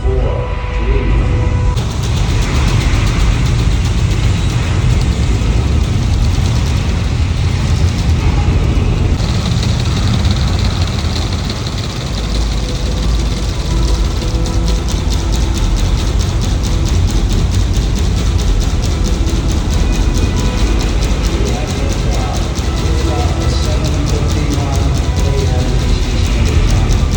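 The Apollo Saturn V rocket engines roar at launch as a loud, continuous, dense rumble played from film, holding steady for nearly half a minute.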